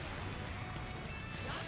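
A crystal shatters during a gacha pull in the Dragon Ball Legends mobile game, a brief dense burst of crashing, smashing noise that holds at a steady level.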